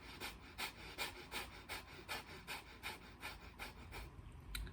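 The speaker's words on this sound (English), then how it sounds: "you can use the fire breath where it's breathing in and out of the nose and pumping and like contracting your stomach" Fire breath, a rapid pumping breath in and out through the nose while contracting the stomach, comes as about a dozen quick, even, rhythmic huffs, close and fairly quiet.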